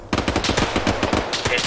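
Rapid automatic gunfire from the ArmA 3 game, a close, loud string of quick shots in fast rhythm that starts abruptly and keeps going.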